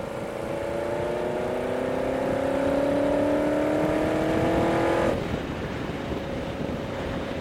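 Motorcycle cruising back to town from a watering hole across the river on a Sturgis trip, a steady engine drone with rising harmonic tones and wind rush that drops off abruptly about two-thirds through.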